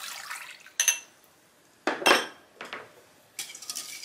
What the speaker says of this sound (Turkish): Köpük köpük olana kadar karıştıralım.